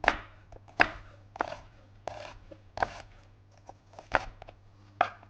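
A knife chopping red onion into half-moon slices on a board, about eight crisp cuts at an uneven unhurried pace, close and fairly quiet with no talk.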